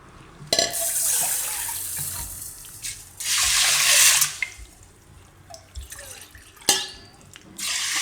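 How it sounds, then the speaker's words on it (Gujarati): Water pours from a tap into a pressure cooker holding washed mung beans for a Gujarati sweet-and-sour mung dish, coming in three close splashing bursts with quiet gaps and drips between. "તો કુકરમાં લઈ લેવું, એમાં આપણે પાણી નાખી દેવું."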